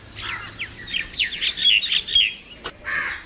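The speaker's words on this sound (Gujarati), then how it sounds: "કાબરો કાકડા સેવા ખાઈ રહ્યા છે।" Mynas and crows call loudly at close range while feeding on offered food outdoors, a rapid run of harsh squawks and chattering notes in bursts with brief gaps.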